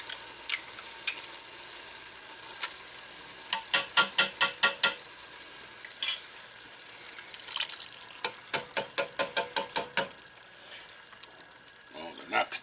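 Canned beans and tomato soup tumble into a pot of homemade chili, giving bursts of clinking and wet stirring scrapes in quick clusters over a steady background hiss.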